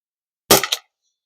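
A less-lethal weapon fires a single shot outdoors in extreme cold: one sharp, loud crack with a quick double echo, then silence.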